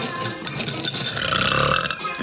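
A woman's burp, a drawn-out, rough belch lasting about two seconds, close and fairly loud, with no speech over it.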